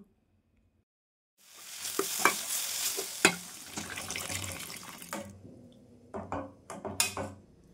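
Soy, chilli and tomato sauces hit a pan with water, starting a sudden loud sizzle that settles into bubbling and stirring, with several sharp utensil clacks toward the end.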